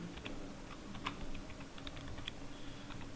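Quiet, rapid typing on a computer keyboard while entering chart data in Excel, a steady run of light key clicks with a few slightly louder taps, no speech.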